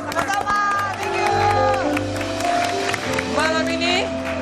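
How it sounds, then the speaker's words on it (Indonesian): Applause and cheering from an audience rise beneath music and voices, the clapping mixed into a loud, busy room. "tepuk tangan buat Winky dan Kenes"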